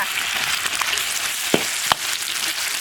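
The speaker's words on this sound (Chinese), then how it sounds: "锅里再倒点油，下入料头、葱姜、蒜干、辣椒，炒肉片" Meat slices stir-fried in oil with scallion, ginger, garlic and chili, giving a continuous close sizzle broken by a couple of sharp spatula scrapes against the wok.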